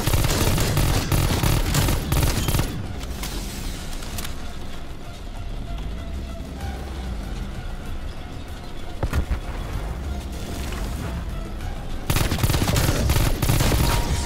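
A gun fires as the trigger is pulled in the shooter Call of Duty Cold War: loud, dense automatic fire opens the scene, thins to a quieter rumble of distant shots in the middle, then swells back to heavy fire at the end.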